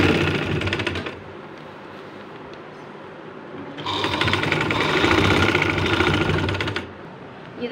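A sewing machine stitching a trouser hem runs in two fast, rattling bursts separated by a quieter pause, close and fairly loud over low room noise.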